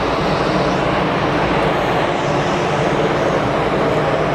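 Cessna 510 Citation Mustang jet climbing out after takeoff from Geneva Airport, a loud broadband roar heard steadily throughout without speech.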